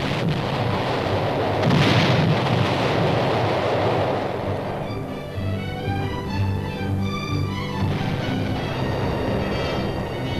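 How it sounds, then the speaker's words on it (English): Artillery fire during the Korean War: a loud, sustained rumble of heavy guns and blasts fills the first half, then settles into a steadier low roar with mechanical tones layered over it. "artillery continued to chase the enemy"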